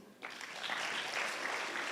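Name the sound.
audience clapping at school day event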